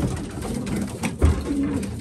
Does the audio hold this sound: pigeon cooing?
yes